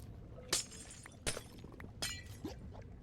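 Glass blocks shattering in vanilla survival Minecraft, four quick crisp breaks spaced roughly evenly apart, each a sharp bright crack over a quiet background hum, with no talking.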